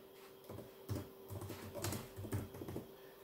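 Quiet bursts of computer keyboard typing, a short run of quick keystrokes entering a search term, close and soft with brief pauses between clusters.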